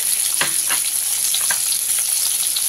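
Potatoes with turmeric frying in hot oil, a steady close sizzle with occasional soft scrapes and stirring taps throughout.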